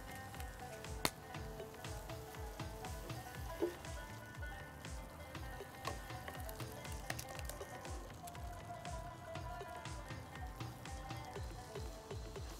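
Tomatoes sizzle and crackle in a hot pan while being stirred for an Egyptian moussaka, a steady close frying hiss with soft scraping, no voices.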